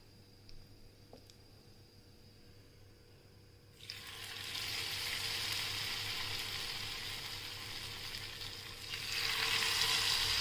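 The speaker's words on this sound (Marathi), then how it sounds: "आणि एक एक करून आपण तळायला घेऊया." Cauliflower manchurian pieces drop one by one into hot oil, starting a loud bubbling sizzle that swells and holds, with a brief stir near the start.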